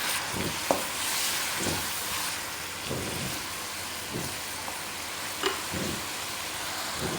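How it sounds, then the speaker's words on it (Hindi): Chopped onions fry in hot oil in a home kitchen pan, a steady close sizzle broken by periodic scraping stirs and a few sharp clinks of the spoon against the pan. "सबसे पहले अब हम इसमें ऐड कर देंगे प्याज चाप की हुई, मिक्स करते हैं"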